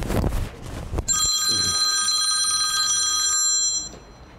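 A mobile phone rings from inside a pocket with a steady electronic ringtone, loud and close. It sustains for several seconds after a brief burst of handling noise, then cuts off.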